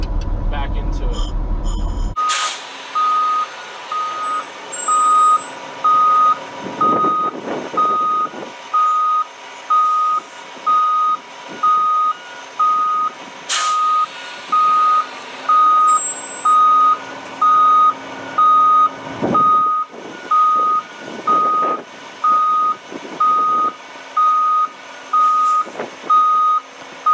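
A Grove TMS9000 truck crane with an Eaton transmission rolls with a steady reversing alarm beeping at a regular pulse over a low engine hum and mechanical thumps, while someone talks throughout.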